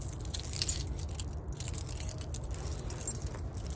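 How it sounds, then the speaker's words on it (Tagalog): A bunch of keys jangles and clinks repeatedly while being pulled out to unlock a door, close and continuous over a low rumble of passing road traffic. "So, kunin natin ang ating susi."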